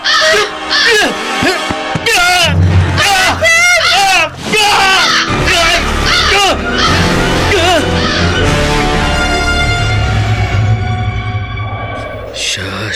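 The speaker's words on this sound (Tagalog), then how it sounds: "Atakihin uli ako ng uwak." A large crow caws and shrieks repeatedly in harsh, loud bursts during a radio horror drama attack, overlapping frantic voices and dramatic music that swells toward the end.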